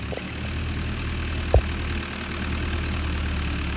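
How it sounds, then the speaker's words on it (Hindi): A tractor engine runs at a steady idle on a farm, a continuous low rumble close by with a brief knock partway through. "इधर से चल रहा है हमारा ट्रैक्टर।"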